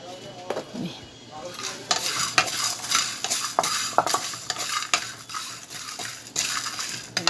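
Ground spices and cumin fry in hot oil in a pan while a utensil stirs and scrapes, giving a close, busy mix of sizzling, clinks and scraping in quick irregular bursts with no talk.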